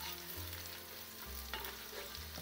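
Whole garam masala and red chilies fry in a pot for a lamb stew, giving a steady, close sizzle with some stirring noise and a low electrical hum underneath.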